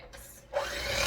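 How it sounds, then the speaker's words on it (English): Banana muffin batter gets stirred in a bowl, a close scraping, rasping rub that starts after a short pause and runs on steadily. "Give this a mix."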